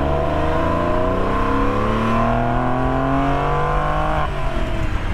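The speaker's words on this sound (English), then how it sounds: "Standard Porsche sports exhaust, switchable, so you can switch it on the dash." A Porsche 911 996 Carrera 4S with its standard switchable sports exhaust accelerates hard through the gears, its engine note climbing loud and close with a shift near the end, with no talking.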